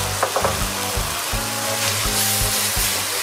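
Fish sauce hits pork in a hot pan and sets off a steady, close sizzle with a few clinks and scrapes from stirring near the start.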